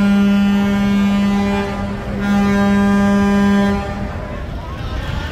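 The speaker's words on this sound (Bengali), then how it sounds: "সদরঘাট থেকে সর্বপ্রথম বরিশালের উদ্দেশ্যে ব্যাক গিয়ারে আছে সুন্দরবন 16 আর প্রিন্স আওলাদ 10" The passenger launch Sundarban 16 reverses away from Sadarghat terminal. It sounds two long, loud, tonal horn blasts with a short gap between them, over a background murmur.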